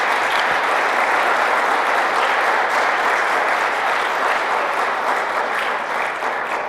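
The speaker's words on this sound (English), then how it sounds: "let's give NJIT a round of applause" Steady, loud audience applause at the grand opening ceremony of a STEM innovation academy in the Oranges, New Jersey, a dense continuous clapping that holds for several seconds.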